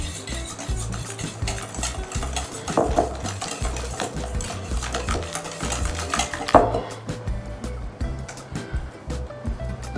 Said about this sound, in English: Mix that up. I'm gonna add some flour,